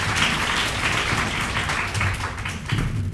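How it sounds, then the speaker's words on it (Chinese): An audience at an indoor youth working-holiday information session applauds, a dense, steady wash of clapping lasting several seconds. "请大家热烈掌声欢迎。"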